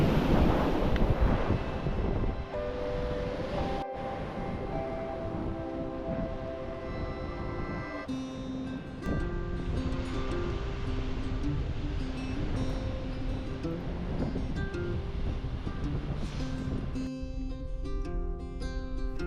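Steady beach ambience with wind buffeting the microphone and the broad wash of surf, continuous and fairly loud while walking along the shore on Catalina Island.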